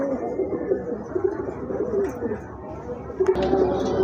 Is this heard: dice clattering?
no